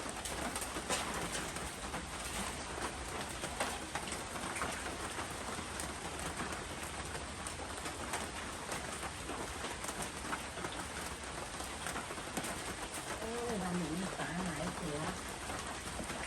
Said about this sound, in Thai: พายุ